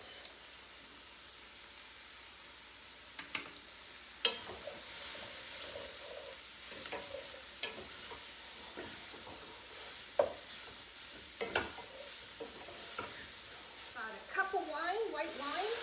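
Mushroom risotto ingredients cook down in a pan with a soft, steady sizzle, broken by occasional sharp clinks and stirring scrapes, close by, while a person talks over it.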